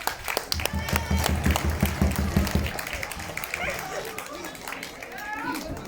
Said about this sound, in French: Je vous propose d'applaudir très fort.